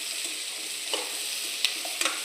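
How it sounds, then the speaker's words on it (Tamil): Onions and tomatoes with curry leaves sauté in a pan for a fish curry, giving a steady close sizzle broken by a few soft scraping stirs. "வெங்காயம் தக்காளி நல்லா வதங்கட்டுங்க."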